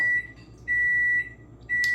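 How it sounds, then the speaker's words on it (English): A kitchen oven warming an apple pie gives three clear, even electronic beeps in a steady rhythm, close and loud with a faint hum between them. "my apple pie is warming up inside the oven, so don't mind the beeping"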